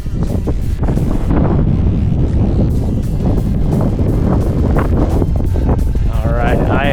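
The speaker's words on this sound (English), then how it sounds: "it's still windy out." Strong outdoor wind buffets the microphone in loud, continuous gusts where an EDF jetliner model is being flown in extreme wind, with brief voice-like bursts and a faint whine near the end.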